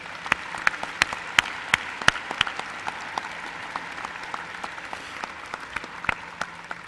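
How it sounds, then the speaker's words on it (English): University convocation audience applauding faculty, a fading round of clapping with scattered sharp individual claps standing out against the thinning crowd noise. "I want to give them a round of applause"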